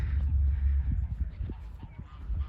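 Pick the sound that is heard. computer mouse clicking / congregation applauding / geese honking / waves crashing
geese honking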